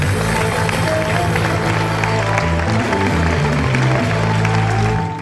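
Audience applause in a studio during an Ethiopian variety talk show, a steady, dense wash of clapping running under sustained music for the whole stretch, loud and close.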